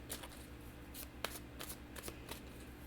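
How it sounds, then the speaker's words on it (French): Playing cards are drawn and flicked from a deck during a reading, a run of short papery snaps and slides at close range with no talk over them. "Je vais aller chercher 2 autres cartes."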